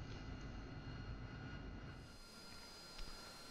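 An AV-8B Harrier jet engine idling after startup in the DCS flight simulator, a steady low roar with a thin high whine that drops a little midway, running alone without voices.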